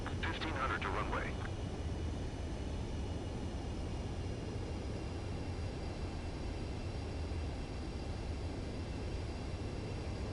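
A fighter jet approaching the runway in Ace Combat 7, its engine a steady, broad roar that holds evenly throughout, with a brief radio voice at the start.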